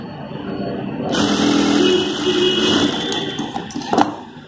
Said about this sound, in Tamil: இதில் ரெண்டு தையல் போட்டுக்கோங்க